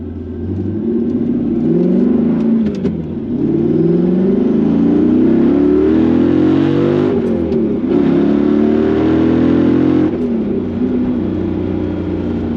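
Mercedes C55 AMG with a special tune revving hard, its engine note climbing and dropping in repeated loud surges with brief lifts between pulls, heard close and without talk.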